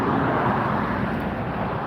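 A Boeing 787 Dreamliner arriving at LAX from Shanghai, heard as a steady broadband jet roar with low rumble, moderately loud and continuous, mixed with some wind and traffic-like background noise.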